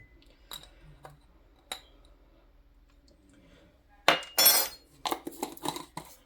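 A spoon clinks and scrapes against a glass jar as beef bouillon is scooped in, with a few sharp taps and then a burst of busier rattling clicks, close and fairly loud against a quiet background.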